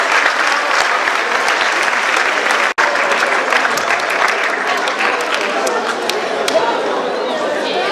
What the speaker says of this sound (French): Allez, sous vos applaudissements, voilà le podium.